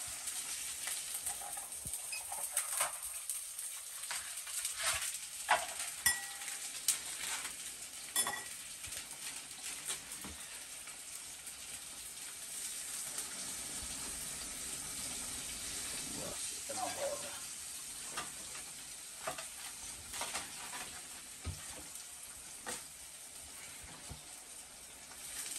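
Tikka masala frying and being stirred in a pan, a steady sizzling hiss with occasional utensil scrapes and clinks against the cookware, heard up close while a person talks in Hindi.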